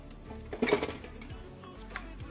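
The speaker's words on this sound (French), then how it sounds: "Donc là, je vais mélanger le tout." A spoon clinks and scrapes against a pot while onion, garlic, celery, seasonings and smoked fish are stirred together, a brief cluster of knocks then quieter scraping, close with no talk.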